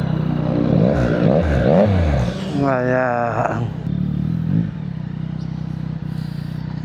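A Yamaha XSR900 motorcycle engine revs in sharp rising and falling bursts, with a clear climbing rev sweep mid-clip, close and loud, while people talk over it.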